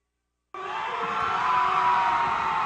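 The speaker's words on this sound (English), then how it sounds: "Crowd is big." A big crowd at a boys high school basketball game between Piner and Elsie Allen roars and cheers steadily, a dense sustained wash of voices that starts abruptly and holds loud throughout.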